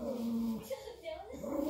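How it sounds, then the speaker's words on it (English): Puppy whimpering during a stop on a road trip in Oklahoma, high thin whines rising and falling amid close, soft talk. "That poor puppy."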